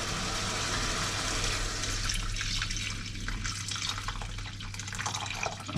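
Vegetable stock, about 450 ml, pouring into a pot for fisherman's mackerel soup, a steady close splashing trickle that runs continuously throughout with no talking.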